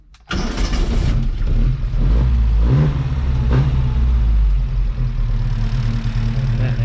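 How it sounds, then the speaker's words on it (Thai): A 1986 Mazda Family 1300 engine cranks and catches, then runs loudly and close by with uneven revving and idling that holds steady for several seconds. "เดี๋ยวลองสตาร์ทดู ต้องเหยียบคันเร่งนะคันนี้ต้องบอกก่อน"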